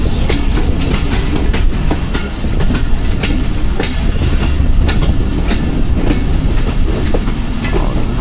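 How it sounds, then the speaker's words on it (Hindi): Awam Express passenger train running slowly past Domeli railway station, with a steady, loud rumble and rhythmic clickety-clack of wheels over rail joints, faint wheel squeal throughout. "और दोनों ट्रेनें स्लो जा रही हैं"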